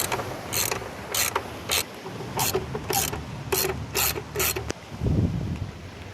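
A socket ratchet works on the manifold bolts of a Dodge Caravan engine during a valve cover gasket job, making repeated short bursts of clicking with brief pauses between them, close to the microphone.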